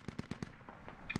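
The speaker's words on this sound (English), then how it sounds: "there goes another mortar in" Mortar rounds fire in SquadOps, the video game: four quick, evenly spaced thumps, then a few scattered fainter blasts and one sharp final crack, with no talking.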